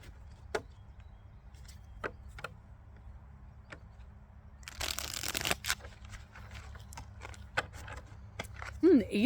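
Tarot cards shuffled by hand during a reading, heard as scattered close clicks and taps with a louder dense riffle burst partway through and a few more snaps near the end.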